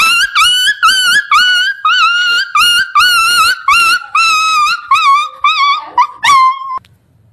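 A voice imitates a beaten puppy crying, with a rapid series of loud, high, quavering yelps and whimpers that tumble over one another and fade into a final drawn-out whine.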